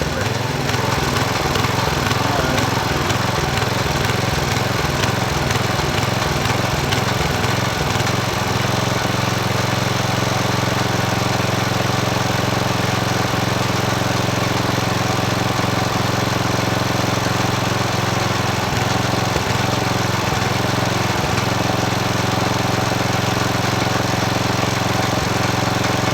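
A Craftsman 5hp tiller engine idling up close, a loud steady mechanical chugging that settles into an even drone after a rougher, pulsing start.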